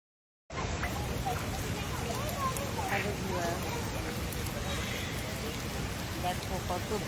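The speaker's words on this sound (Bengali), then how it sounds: "দেখো কত বৃষ্টি হচ্ছে।" Heavy rain falls at a seaside hotel resort in Cox's Bazar, a dense, steady hiss that starts suddenly and holds even and fairly loud to the end.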